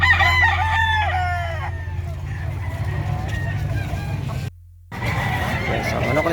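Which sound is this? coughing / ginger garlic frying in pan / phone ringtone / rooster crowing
rooster crowing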